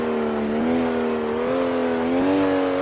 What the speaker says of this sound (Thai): ได้ยินป่ะทุกคนเวลาถอนคันเร่งมีเสียงทาโบด้วยนะ